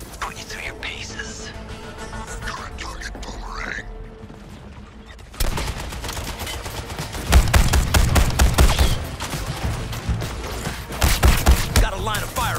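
Gunfire in the video game Suicide Squad: Kill the Justice League, with loud bursts of rapid shots and heavy thumps that grow denser partway through, mixed with game voices and ambient combat noise.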